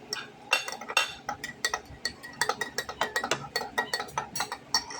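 A spoon stirs rice coffee in a cup, producing quick, irregular metallic clinks and taps against the rim and sides, close and fairly quiet, continuing steadily without speech.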